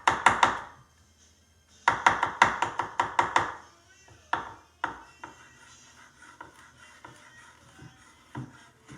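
Knife mincing garlic for Tuscan butter salmon on a cutting board, rapid bursts of close, crisp chops in two flurries, then scattered slower taps.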